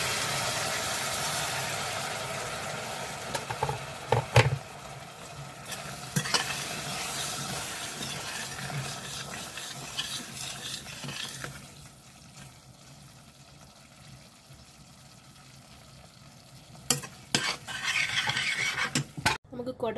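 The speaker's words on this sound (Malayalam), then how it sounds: "നമുക്കിനി ചൂടുവെള്ളം നല്ലപോലെ ആഡ് ചെയ്ത് കൊടുക്കാവേ" Hot water is added to a simmering Kerala tuna fish curry, giving a close sizzle and bubbling that fades into quieter simmering midway before stirring clatter returns.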